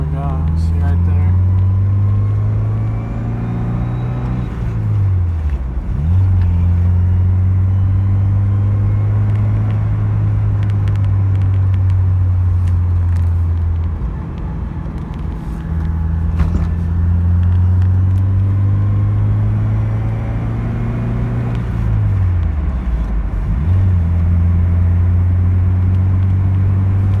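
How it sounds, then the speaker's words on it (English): Mazda Miata engine idling steadily after a slave and master cylinder change, a loud low rumble that dips and recovers twice as if revved or stumbling, with faint background noise throughout. "Got the Miata up and running."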